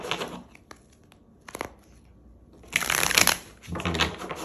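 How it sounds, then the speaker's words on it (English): A deck of tarot cards is shuffled in a few quick riffling bursts, close and crisp, with scattered soft taps and card handling between them. "Let's do 3 shuffles."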